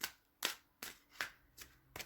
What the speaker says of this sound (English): One more shuffle and that'll be it.